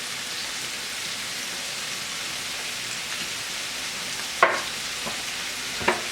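Peppers, onions and garlic sizzle in a hot pan with a steady, close frying crackle while being stirred, with a few sharper scrapes and clicks of the utensil against the pan near the end and no speech.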